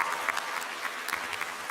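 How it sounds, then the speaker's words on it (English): An audience at an Oxford House 50th anniversary gathering gives the staff a round of applause, with steady dense clapping throughout this short burst. "I want to give my staff, many of whom are here, a round of applause as well"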